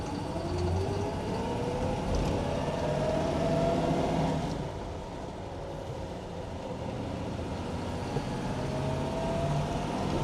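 A 1966 Chevrolet Impala SS with a 427 V8 and four-speed manual drives along, its engine a steady low rumble with audible pitch shifts as it downshifts, heard from inside the car.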